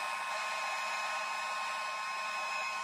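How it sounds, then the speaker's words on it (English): Steady, even whoosh of a heat gun blowing air on its low setting, a continuous close hiss with a faint hum and no pauses. "I wonder if I can hit that with a heat gun real light."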